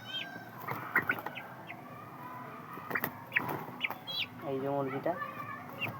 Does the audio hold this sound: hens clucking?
yes